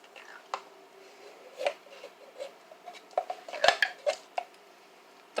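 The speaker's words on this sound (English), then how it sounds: "And just give this a good mix." A spoon stirs cream soups into broth in a pot, giving sporadic scraping and clinking against the metal, with quiet wet sloshing between strokes.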